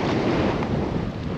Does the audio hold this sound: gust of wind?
yes